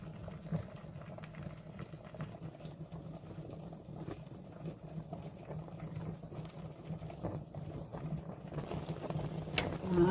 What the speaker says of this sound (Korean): 이 정도 해서 한번 끓여 볼게요